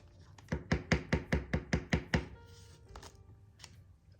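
No-bake Christmas candy mixture being mixed by hand in a bowl, about nine steady, evenly spaced thuds of the utensil close by, followed by a few fainter scrapes.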